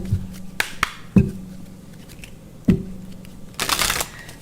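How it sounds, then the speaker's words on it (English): A tarot deck is shuffled and cards are drawn and laid down, with sharp snaps and taps, then a dense riffling burst of cards near the end, close and clear. "let me go ahead and pull some additional cards here"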